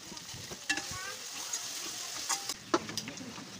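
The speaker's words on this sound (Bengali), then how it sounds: "এই যে তেলের মধ্যে অল্প রসুন কুচি দিলাম" Chopped garlic sizzling in hot oil for chicken curry, a constant close crackle broken by a few sharp scrapes and clinks of a stirring spoon against the pan.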